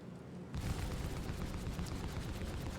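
A tank's main gun fires in a video game after a short quiet lead-in, then a loud blast breaks into a dense, sustained rumble that fills the rest of the moment.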